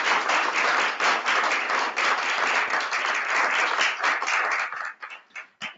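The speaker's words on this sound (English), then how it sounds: "Let's give Sam a big round of applause and thank you for being here today." A round of applause from an audience at a talk on a college sustainability plan rings out steadily for several seconds, then thins into a few scattered final claps at the end.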